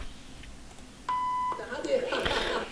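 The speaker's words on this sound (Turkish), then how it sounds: "Gördüğünüz üzere bip sesi böyle ekleniyor." A single sharp electronic censor beep cuts in for about half a second, followed by a person talking.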